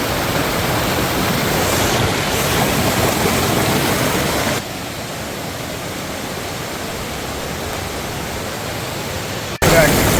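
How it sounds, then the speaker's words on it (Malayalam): Waterfall in a rural Kerala village area, a steady broadband rush of falling water heard close, louder at first and then slightly softer, continuing under a brief voice. "അടിപൊളി ഒരു വെള്ളച്ചാട്ടം കേട്ടോ"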